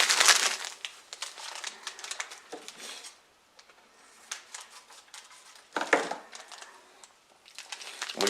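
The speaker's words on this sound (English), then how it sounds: "You're going to tear off the top." Plastic packaging of an MRE cocoa beverage powder pouch being torn open at the top: loud close crinkling and ripping in bursts, with brief quiet pauses between handling sounds, and no voice.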